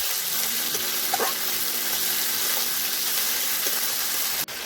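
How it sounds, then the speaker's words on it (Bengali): Spices frying in oil for oil koi fish, a continuous even sizzle heard close up, with a few faint stirring clicks and no talking. "মশলা ভাজা হয়ে গিয়েছে, তেল ছেড়ে গেছে।"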